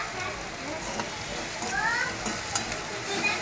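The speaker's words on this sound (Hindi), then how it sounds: "प्याज को अच्छे से ब्राउन होने दीजिए, थोड़ा टाइम हम रुक जाते हैं। इसे अच्छे से मिक्स कीजिए।" Onions browning in a pan for batata wada, a steady close sizzle of frying with scraping stirs of a spoon running through it.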